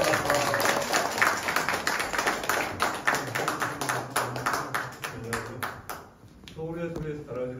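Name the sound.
applause welcoming a guest speaker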